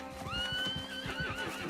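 A horse whinnies in Red Dead Redemption 2, a rising then falling neigh lasting over a second, with steady clip-clop hoofbeats underneath throughout.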